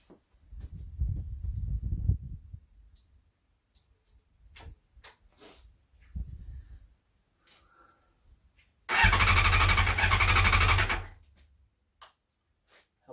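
Honda CBR600F motorcycle being started, with a few short starter cranking bursts and clicks, then a loud two-second grinding whir before things fall quiet again.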